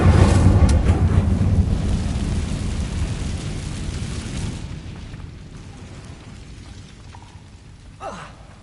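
The Incendio fire spell in Hogwarts Legacy bursts out with a loud roaring whoosh that rumbles for several seconds and slowly fades, ending with a brief sharp flick.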